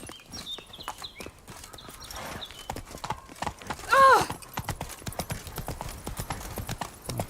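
Roach, the horse in the video game Witcher 3: Wild Hunt, trotting with a steady run of crisp hoof clip-clops, close and clear, broken once by a brief neigh midway, with faint game sounds behind.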